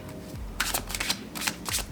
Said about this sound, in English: great overhand shuffling deck